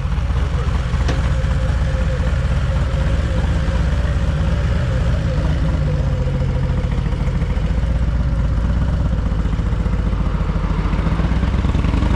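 Motorcycle ride on a summer mountain road through Big Bear, California: a steady, loud engine drone with rumbling exhaust and wind buffeting runs throughout, close and continuous.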